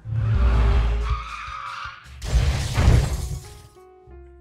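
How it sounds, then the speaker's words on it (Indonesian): A car swerves with screeching tires and slams into a truck in the next lane, ending in a loud smash and shattering glass. It is close and intense, with no talking. "Vickers malah memutar setir mobil sehingga menabrak truk di jalur sebelah"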